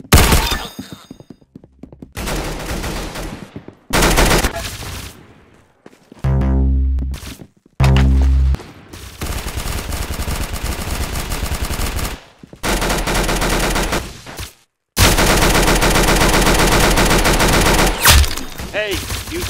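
Video game gunfire: rapid machine-gun bursts and loud shots come in clipped volleys separated by short silences, close and loud throughout.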